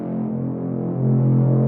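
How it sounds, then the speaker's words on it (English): Atmospheric sound effects for a Doom-inspired dubstep track: a dark, throbbing low hum with a muffled pad that swells slightly louder partway through, with no speech. "so I went a bit ham on the atmospheric stuff with sounds like this"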